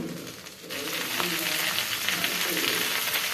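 Green turkey berries and tomatoes sauté in a pan. After a short quiet start, a dense, even sizzling hiss takes over and carries on steadily, with faint crackles throughout.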